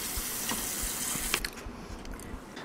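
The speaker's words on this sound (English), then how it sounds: "Now, wash the anchovies." Running water from a tap pours steadily over anchovies being washed for a soba dish, a quiet continuous splash with a few soft knocks and clinks, and no voices.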